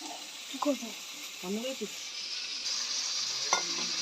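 Pabda fish curry with potato and fried eggplant simmers and sizzles steadily in a pan, a soft stirring scrape cutting in now and then under a near, constant hiss.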